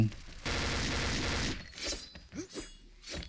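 A rapid burst of automatic video game gunfire rattles for about a second, followed by scattered shots and clatter as a voice speaks briefly underneath.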